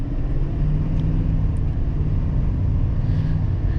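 A Duramax diesel in a 2024 GMC Sierra 2500HD Denali Ultimate drones steadily inside the cabin, a constant low rumble at even loudness with no talk.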